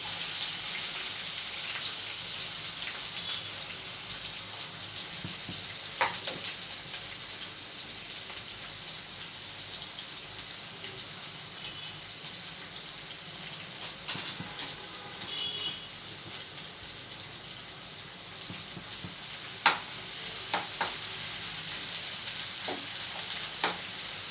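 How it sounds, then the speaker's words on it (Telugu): Green chillies and onions fry in a pan with a steady, dense sizzle and crackle lasting throughout, close and even, punctuated by a few sharper pops and stirring clicks, with no speech. "ఫస్ట్ పచ్చిమిరపాయలు వేసుకుందాం నెక్స్ట్ వచ్చేసి ఉల్లిపాయలు వేసుకుందాం"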